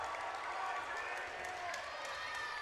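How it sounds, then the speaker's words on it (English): The crowd at a Canadian national dodgeball championship quarter-final stirs with faint, distant clapping and excited murmuring, buried under the hall's noise while a commentator talks over it. "You hear the crowd getting excited."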